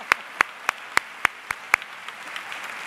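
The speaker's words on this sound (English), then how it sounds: "So let's give Ms. Gould a round of applause." Sharp, evenly spaced hand claps ring out in a school convocation hall for Ms. Gould, about seven loud isolated claps in a regular rhythm, then only faint scattered clapping.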